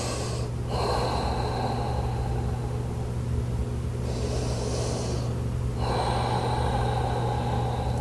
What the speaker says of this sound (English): See if you can come back to that Ujjayi breath if that serves you tonight